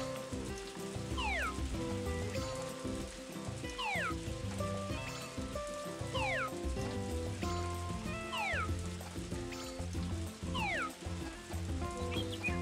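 Rain falls in the farming game Story of Seasons: A Wonderful Life, a steady hiss running the whole way beneath looping background music, with no one talking.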